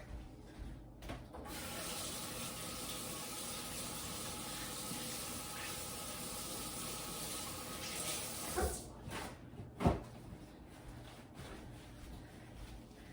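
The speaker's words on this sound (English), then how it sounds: "Rinse off your hands real quick." A kitchen tap runs in a steady, close rush for several seconds while hands are rinsed during blood orange bar baking, then cuts off, followed by a couple of brief clunks.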